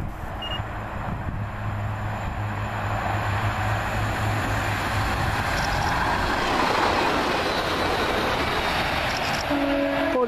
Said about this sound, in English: Here come Transpennines heading southbound.